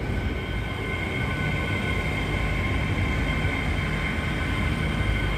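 A TransPennine Express Nova Class 802 train rumbles steadily past at Huddersfield station, a loud continuous roar of wheels and engine with no break throughout.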